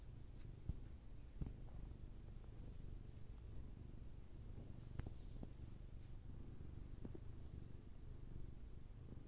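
A cat purrs steadily and softly up close while being petted, a low continuous rumble with a few faint scratchy touches.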